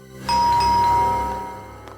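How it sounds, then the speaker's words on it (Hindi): A two-tone doorbell chimes once, a bright ding followed by a lower ringing tone that slowly fades out, clear and close. "इस वक्त मेरे घर की घंटी बजा रहे हैं"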